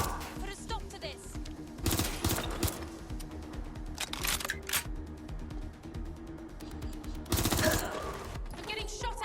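Rapid bursts of gunfire in the video game Watch Dogs Legion, with two loud clattering volleys and scattered sharper shots between them, all close and harsh.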